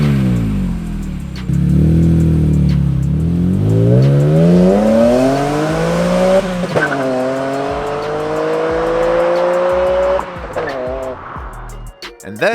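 A BMW E46 M3 fitted with a Rogue Engineering El Diablo exhaust revs and accelerates close by, deep engine tone climbing through gears with rising pitch sweeps and brief dips between shifts.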